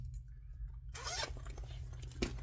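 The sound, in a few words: zipper pull being put on a sewn bag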